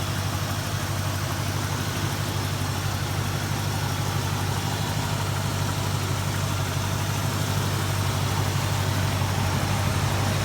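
A 389 engine in a 1963 Pontiac Bonneville ambulance idles steadily at close range, a continuous low rumbling drone with a smooth, even pulse and no voices over it.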